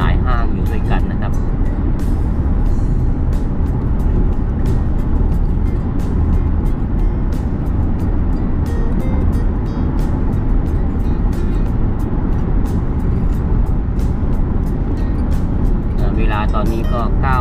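Heavy 9 a.m. road traffic on Rattanathibet Road in Nonthaburi, Thailand, heading toward Bang Yai: a loud, continuous close-up roar of engines and tyres with passing vehicles, someone talking over it throughout.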